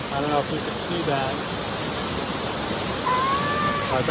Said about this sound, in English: That was actually the waterfall we were under.